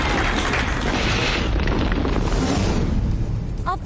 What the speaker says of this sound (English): guessing how far this nitrogen cannon can fling furniture